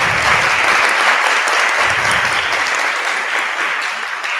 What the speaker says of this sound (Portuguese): Os aplausos.